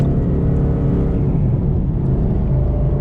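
Cabin rumble of a car with an MT-82 manual transmission driving on the road, a loud continuous engine and drivetrain drone with a steady low hum through a gear change, no voices over it.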